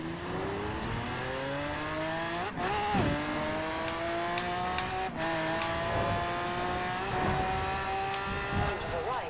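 A car engine in the racing game Forza Horizon 4 revs up in long, climbing whines, dropping briefly at each gear change before rising again, loud and continuous with faint tyre noise.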